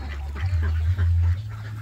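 Yi-Liang ducks let out to exercise after egg collection give a few close, loud nasal quacks and honks in short bursts, with no talk.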